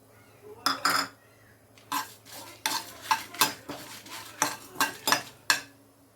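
Dry spices and seeds, coriander seeds and sesame among them, scraped and tossed in a pan with a spoon, giving a string of sharp, close rattling strokes at an uneven rhythm with no voice over them.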